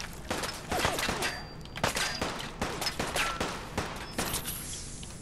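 Shotgun blasts in Fallout 4 at the Corvega Assembly Plant, with about eight sharp, loud reports in an irregular run and the clank of handling between shots.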